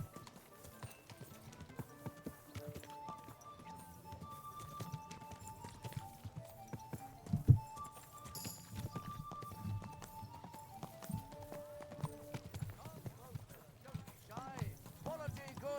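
Horse hooves clip-clop steadily at a walk in Kingdom Come: Deliverance II, sounding close and rhythmic beneath in-game dialogue and a soft musical score.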